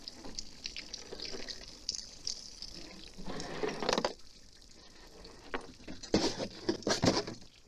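Water poured out of a plastic test jug, irregular splashing and gurgling bursts that come and go in uneven waves, fairly close and moderately loud.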